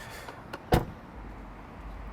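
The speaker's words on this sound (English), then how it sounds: "Let me go ahead and get out of the car here." A Tesla Model 3 door opening as someone gets out of the car in a parking spot. A faint click is followed by a single sharp, close thunk, then quiet ambient rumble.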